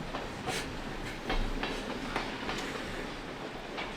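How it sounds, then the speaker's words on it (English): Freight train rolls past at moderate distance on a disc golf course, with steady rumbling and repeated clickety-clack wheel bursts spaced about a second apart, no talking. "this is 2 days in a row that train popped up on us"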